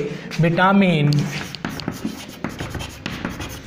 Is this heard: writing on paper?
yes